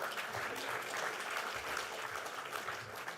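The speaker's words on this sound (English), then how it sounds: "I think that deserves some applause." An audience at a business-day summit on AI applauds with a moderate, continuous clatter of many hands. A low murmur sits underneath the clapping.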